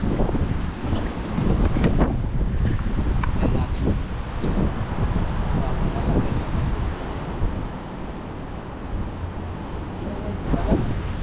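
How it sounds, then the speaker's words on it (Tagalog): Strong wind on a riverbank buffets the microphone in a loud, continuous roaring rumble with rougher gusts throughout. "Lakas din ang hangin, no?"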